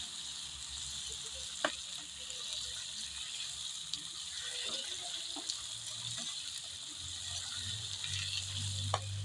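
Shrimp sautéing in a pan for ginisang hipon with kangkong, a quiet steady sizzle with occasional sharp clicks of utensils and soft stirring noises, no talking.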